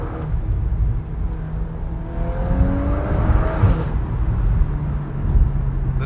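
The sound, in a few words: VW Golf 8 R engine accelerating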